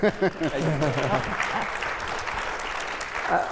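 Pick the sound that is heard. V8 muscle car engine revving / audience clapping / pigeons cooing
audience clapping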